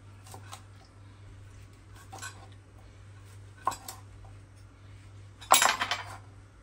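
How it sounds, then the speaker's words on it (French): Knife cutting smoked sausages in a metal cooking pot, a few scattered clinks and scrapes, with a louder metallic clatter near the end, close and fairly quiet. "Je vais couper les saucisses."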